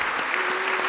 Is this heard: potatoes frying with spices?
no